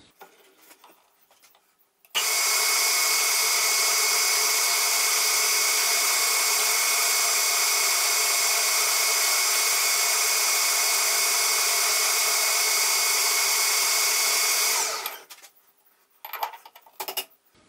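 A loud, steady grinding hiss of a metal lathe taking a light spring pass holds for about thirteen seconds, then stops, leaving quiet workshop clatter.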